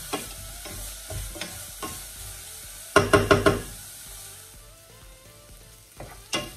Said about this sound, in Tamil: இதை வந்து நல்லா வதக்கி கொள்ளுங்க.